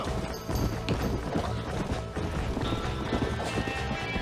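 A fast horse gallops in Red Dead Redemption, its hooves making a quick, continuous clip-clop close by alongside busy game sounds and music.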